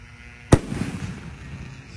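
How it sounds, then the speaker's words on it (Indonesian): A large Roman candle firework is set off outdoors at night, giving one sharp, loud bang followed by a crackling, rumbling tail that fades over about a second, with no voices. "menyalakan mercon Roman candle terbesar hari ini"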